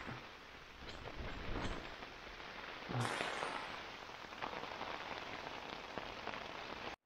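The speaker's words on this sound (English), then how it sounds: "So it's been 3 hours of sustained heavy rain and the tent is coping well." Steady heavy rain drums on the fabric of a pyramid tent, a dense continuous hiss with scattered heavier drops and a brief louder gust of patter near the middle.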